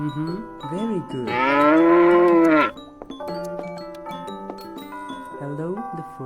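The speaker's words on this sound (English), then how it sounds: "Hello, the fourth cow." A cow gives a single sustained, full-throated moo early on, close and loud, followed by light chiming notes and soft tonal sounds.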